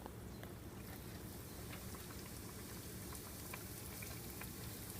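Yeast doughnuts frying in a pot of hot oil, giving a faint, steady crackling and bubbling sizzle with small irregular pops, with no voices over it.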